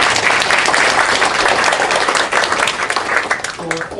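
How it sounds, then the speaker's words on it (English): A round of audience applause at a conference event on UN peacekeeping and the protection of civilians, continuous loud clapping from a crowd that thins near the end as a voice comes in. "Can I ask for a round of applause?"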